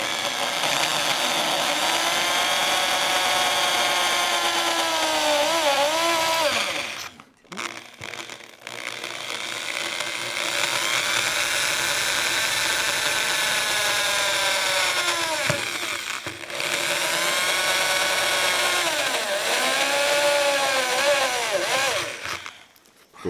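An electric drill bores a series of small holes into a broken wooden shoe tree from a Hungarian Vass shoe. The whining motor rises and falls in pitch through several long, close bursts separated by short pauses.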